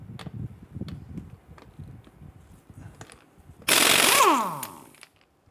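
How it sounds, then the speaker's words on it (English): An impact wrench rattles loudly in a short burst while removing a lug nut from a Cadillac Escalade rear wheel, preceded by light clicks and handling noises, then winding down to quiet. "Remove this lug nut."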